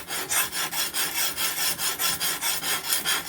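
A knife blade is drawn full length across an oiled sharpening stone on a Ruixin Pro sharpener, producing about a dozen even, rhythmic rasping strokes, close and clear with no voices.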